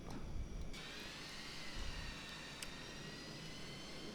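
Steady, faint whine and roar of the Milviz 737-200's jet engines from the cockpit of a flight simulator, holding an even drone with a thin tone sliding slightly.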